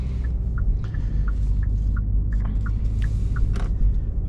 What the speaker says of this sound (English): as you can hear, engine sounds